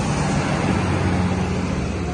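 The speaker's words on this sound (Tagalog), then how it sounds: "Ang daming sasakyan." Heavy road traffic in Baguio, with many cars, buses and trucks producing a steady, dense roar of engines and tyres that stays close and constant without a break.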